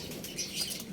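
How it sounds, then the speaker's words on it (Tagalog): Racing pigeons flutter past with quick, soft wingbeats, a brief airy flapping at moderate distance against a quiet outdoor background, with no voices. "Ayun, yung mga kalapati natin."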